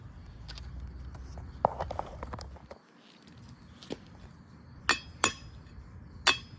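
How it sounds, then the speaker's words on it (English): A few sharp metallic hammer strikes on a hot axle bearing sleeve ring out, spaced apart, over faint clinking and shuffling noise nearby. "Now I'm gonna take a hammer and smack this thing around."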